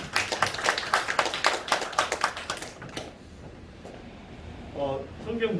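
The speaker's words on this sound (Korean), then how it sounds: "박수 한번 해주시기 바랍니다." Rhythmic clapping from a church congregation during a Sunday service, quick regular claps for about three seconds that then fade, followed by a brief voice.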